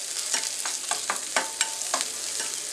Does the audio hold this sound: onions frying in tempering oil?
yes